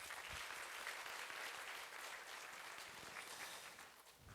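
A church congregation at a Sunday service bursts into sustained applause, a dense, steady clapping from many hands that fills the room and tapers slightly toward the end.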